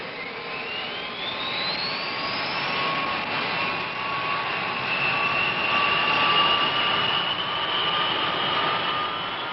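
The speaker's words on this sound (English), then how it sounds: "Everything ready, the B-52s taxi out and are soon on their way." B-52 bomber jet engines roar and whine steadily while the aircraft taxi, with a rising high-pitched tone in the first few seconds over a broad, loud rushing noise.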